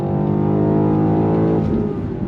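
A 2023 BMW XM luxury performance SUV accelerates hard to merge onto a highway, its engine note steady, loud and close, rising in pitch through the gear before easing slightly near the end, with no talking.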